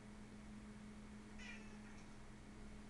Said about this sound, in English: I apologize for the cat meows.